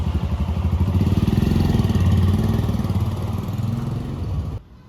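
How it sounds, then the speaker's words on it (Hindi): Motorcycle engine revving loudly up close with a rapid pulsing exhaust beat, sustained then easing as the bike rides off, ending abruptly. "बाइक स्टार्ट करके निकल गया।"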